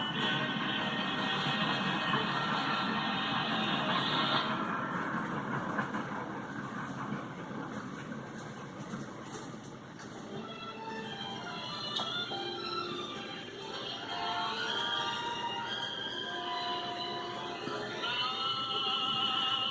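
A train rumbles steadily past, a broad continuous roar with shifting metallic tones and squeals, moderately loud throughout with no talking.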